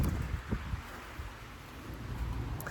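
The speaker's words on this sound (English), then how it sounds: "It's pretty windy out here." Wind blows outdoors and buffets the microphone with a constant low rumble and irregular gusty thumps, steady and close throughout, with no talk.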